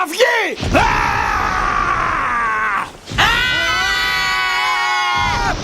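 A group of young voices lets out a long, loud, sustained shout, breaks briefly, then roars again in unison, as in an animated series where a team raises a battle cry.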